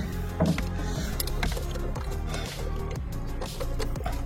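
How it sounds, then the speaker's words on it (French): Tightening a screw that fixes a motor to a car body on the left side: a run of close, mechanical ratcheting clicks and scrapes from hand tools, with no talking. "J'ai plus qu'à serrer cette vis"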